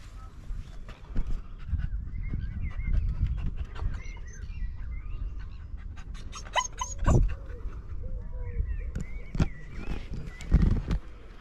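A dog whimpers outdoors during a walk with a backpack, thin high whines recurring over a rustling, scuffling background with birds chirping nearby.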